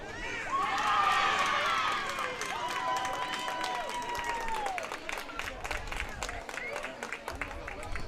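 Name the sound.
crowd cheering at a baseball game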